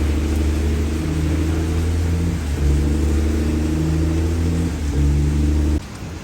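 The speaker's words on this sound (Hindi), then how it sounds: "जैसे वो सामने पोर्ट खड़ी है, उसकी आवाज़ यहाँ तक आ रही है, उसकी क्लीनिंग चल रही है" A car parked across the road in Kuwait is being cleaned, heard as a steady, fairly loud mechanical drone with a layered hum that holds throughout and drops off abruptly near the end.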